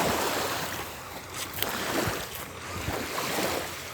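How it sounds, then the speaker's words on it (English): Ocean waves wash and surge continuously along the shore, a broad hissing roar with soft swells rising and falling, wind buffeting the microphone throughout and no voices. "The sound of the ocean, the beat of my steps."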